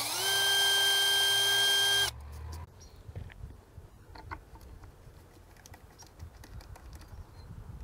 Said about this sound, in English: I'm going to pre-drill some holes for the screws.